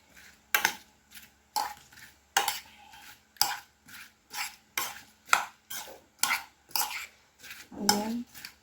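Apple and cucumber salad is tossed in a bowl, with a utensil striking and scraping the sides in a regular series of about a dozen sharp clinks, close up with short pauses between strokes.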